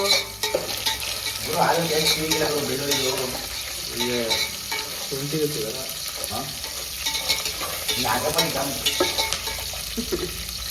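Vegetables for a pulao are stir-fried in a pan, with a loud sizzle and repeated scraping stirs up close, and faint voices in the background.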